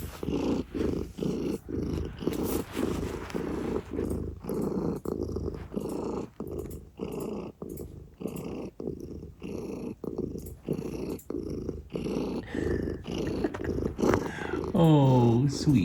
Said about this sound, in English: God, he is just such a happy cat